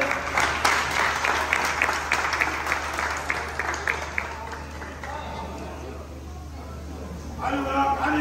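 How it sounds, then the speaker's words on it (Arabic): Audience applause at an acrobatic show, a steady patter of many hands clapping that fades midway and picks up again near the end, with crowd noise and voices mixed in. "تصفيق الكابتن حسام خالد"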